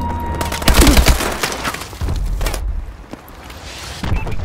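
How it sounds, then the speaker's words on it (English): Missile strikes in the video game Call of Duty Advanced Warfare land as a series of loud, close explosions with crackling, shattering debris, followed by further thuds and booms. "Friendly missile strikes inbound."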